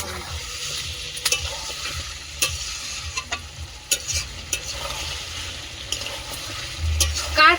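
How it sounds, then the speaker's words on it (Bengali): Broiler chicken meat fries in a pan with a steady low sizzle, while a spoon scrapes and clicks against the metal at irregular intervals as it is stirred. "কষি নেওয়ার জন্য সুন্দর করে জাল দেব"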